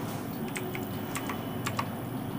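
Quiet, rapid clicks of a computer keyboard being typed on for an Excel formula, a handful of light keystrokes over a steady background hum.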